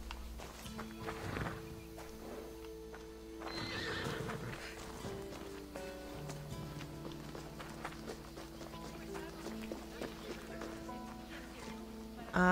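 Game audio from Assassin's Creed Odyssey of hooves clip-clopping in a quick rhythm, with a horse's whinny rising partway through over a soft musical backdrop.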